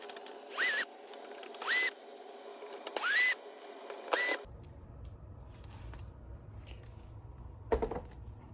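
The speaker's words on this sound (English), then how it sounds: "So we're going to get those 5 screws out" Power driver backing screws out of a Yamaha AW4416 digital mixer during disassembly, heard as four short whirring bursts in quick succession, followed by quiet handling noise and a faint later click.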